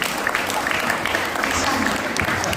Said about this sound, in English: Give a clap for him.